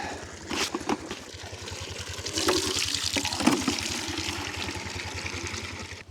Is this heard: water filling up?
yes